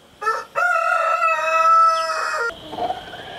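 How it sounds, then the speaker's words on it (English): A rooster crows loud and close on a spring farm, one long harmonic call with a short opening note, then a softer trailing sound. "This rooster right here,"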